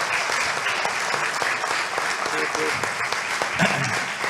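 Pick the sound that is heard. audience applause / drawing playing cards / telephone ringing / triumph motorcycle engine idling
audience applause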